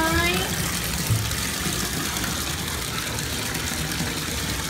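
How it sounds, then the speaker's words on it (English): Water gushes from a tap into a bathtub, a steady, loud rushing spray that fills the space evenly from start to finish, with a brief bubbling tone near the beginning. "let's turn the water on and get some bubbles here"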